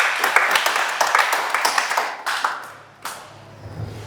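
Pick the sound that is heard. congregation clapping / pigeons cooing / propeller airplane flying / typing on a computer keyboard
congregation clapping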